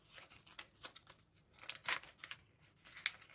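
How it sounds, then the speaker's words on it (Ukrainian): Paper packet torn open and handled at close range, a run of soft crinkles and short ripping bursts with quiet pauses between, no voice over it. "Відкриваємо пакетик."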